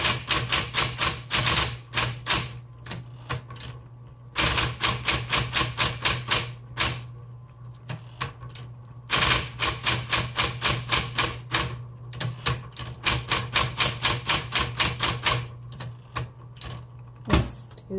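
A 1960s Smith Corona Electra 120 electric typewriter is typed on in fast, loud runs of sharp key strikes over a steady motor hum, with brief pauses between bursts.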